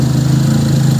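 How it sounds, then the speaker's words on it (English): A 1989–1994 Mazda BG 323 fitted with double Weber 32/36 DGEV carburetors idles slightly low, a loud, steady, close-up engine drone with an even low throb. "it's probably idling a little lower than what it needs to"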